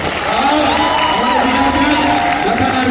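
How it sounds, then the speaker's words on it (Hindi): A large crowd at a Birsa Munda Kranti mass rally in India claps and cheers loudly and continuously, with whoops rising over the sustained roar of applause. "उनके लिए जोरदार तालियों से स्वागत करेंगे"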